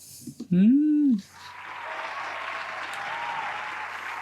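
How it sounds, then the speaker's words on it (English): A short electronic swooping tone opens, then a soft wash of applause follows on a sneaker podcast, steady and fairly quiet, like a sound effect rather than a live crowd. "Round of applause for K-Swiss, please."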